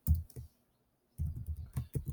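Keys pressed on a graphing calculator while entering an equation, a quick cluster of soft clicks, a pause of silence, then a steady run of taps close by.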